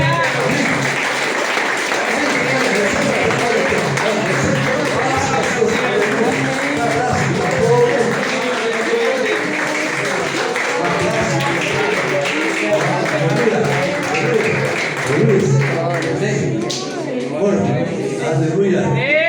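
A church congregation applauds during a consecration service, with sustained loud clapping from many hands filling the room for the whole stretch while voices carry on over it.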